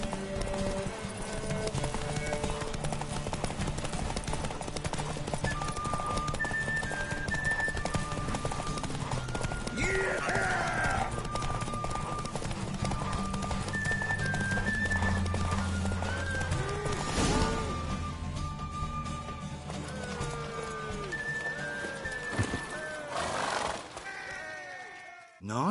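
Horse hooves clip-clopping at a gallop during a race in The Witcher 3 video game, a steady rapid rhythm under in-game music, with occasional whinnies and a spoken line from a character partway through.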